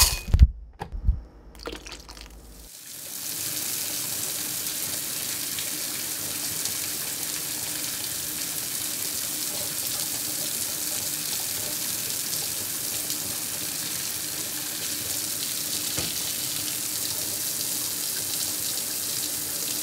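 A household shower runs steadily with a full, hissing spray that starts after a few faint clicks and bumps, then holds at an even, close level to the end.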